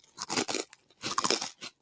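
Close crunchy chewing in two loud bursts of crisp bites and crackles separated by a short pause, with no talking.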